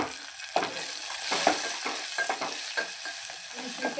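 Green chillies and garlic paste sizzle steadily in hot oil while a spoon stirs and scrapes the pan in short repeated strokes, close and continuous with no talk.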